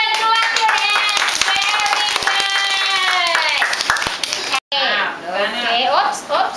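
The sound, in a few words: children clapping hands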